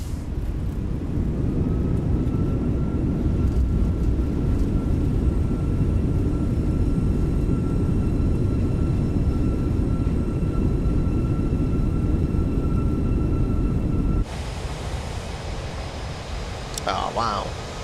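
A simulated A320 airliner roars with its thrust reversers engaged after landing at Heathrow in MSFS 2024, a loud, even low rumble with a thin steady whine that cuts down sharply near the end, leaving quieter cabin noise and a brief click.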